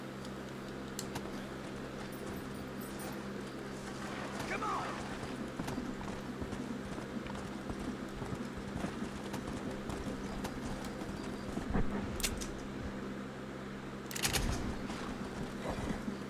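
Horse hooves clip-clopping in Red Dead Redemption, a steady galloping patter running throughout under game ambience and occasional sharper knocks, moderately loud and without talk.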